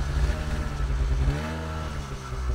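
A snowmobile engine drones steadily under throttle, a loud, close, sustained hum with a slight dip in pitch midway, carrying on without speech.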